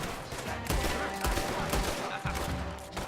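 Rapid gunfire from several guns in Red Dead Redemption 2, with sharp repeated shots and bursts in an irregular, loud fusillade that runs throughout.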